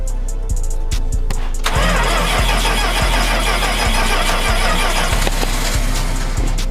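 A 1972 Dodge D100 pickup's engine cranks with a rhythmic starter churn, catches and roars into a loud, rough run, revving up close by with no talking.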